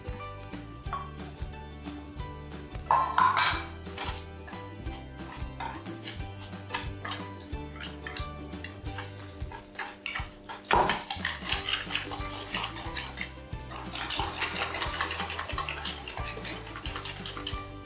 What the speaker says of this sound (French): Je vais blanchir les œufs, les jaunes d'œufs. Donc œufs et sucre. Et je fouette énergiquement.